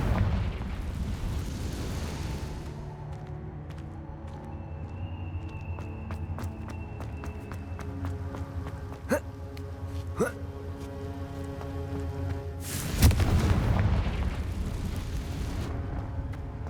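Explosive Confringo spell in the Hogwarts Legacy video game, with a sharp burst and crackling pops over game music, followed by a louder rushing blast near the end.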